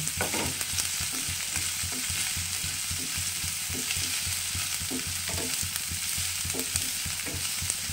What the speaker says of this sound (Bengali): এটা লাল করে ভেজে নেব।